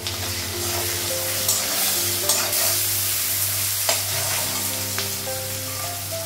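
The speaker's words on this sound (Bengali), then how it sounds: "জিরে দিয়ে দিলাম, ধনিয়া দিলাম, আদা বাটা একটু পরে রাখবো।" Cumin, coriander and spices sizzling in hot oil while being stirred: a close, steady frying hiss with scraping strokes and a few sharper clicks of the spoon, no voices.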